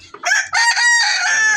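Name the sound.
rooster crowing in poultry house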